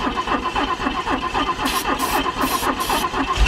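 An abandoned fuel-injected DeLorean engine cranks and catches, settling into a rough, uneven running note with bursts of hiss near the end. It sounds close and moderately loud, with no speech over it.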